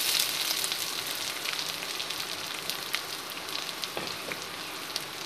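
Onions frying in hot oil for an Assamese-style chicken curry give a steady, close, dense crackling sizzle that runs unbroken throughout, with no talking.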